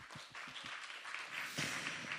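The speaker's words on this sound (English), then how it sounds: "Another big round of applause, please." Conference audience applause in a hall, a soft, fairly distant patter of clapping that swells slightly partway through and continues steadily to the end.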